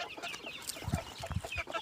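Backyard chickens cluck in a small coop, with a few louder, closer clucks standing out over softer fowl chatter and no speech.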